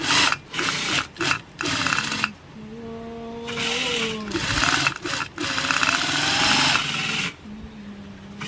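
A sewing machine stitches hand gloves in fast bursts, stopping and restarting repeatedly, with a steady rattling hum and a sliding pitch while a voice talks nearby.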